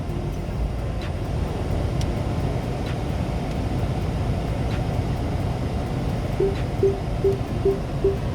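A Volkswagen Golf 8's original parking sensor gives a short series of evenly spaced warning beeps while reversing, faint over low cabin and engine rumble, with occasional soft clicks.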